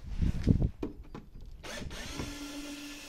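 A cordless screwdriver with a Phillips bit backs out screws on a car's rear tail light assembly, a few short whirring bursts close by, then clicks and fainter handling noise.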